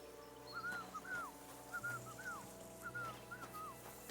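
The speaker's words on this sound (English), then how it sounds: "Tankard, stop with that. Your whistling is getting on my fucking nerves the whole way." A game character whistles a short repeating tune while travelling in Kingdom Come: Deliverance II, several clear rising-falling whistled phrases over a low ambient bed, moderately close.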